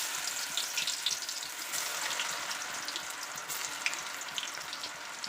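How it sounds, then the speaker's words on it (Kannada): Battered okra fries in hot oil with a constant bright sizzle and bubbling. The sound is steady and fairly close, with no voices over it. "ಇವಾಗ ಇದನ್ನು ಕಾಯ್ದಿರೋಂಥ ಎಣ್ಣೆಗೆ ಹಾಕಿ ನಾವು ತೇಲಿಸ್ಕೊಳ್ಳೋಣ ಬನ್ನಿ"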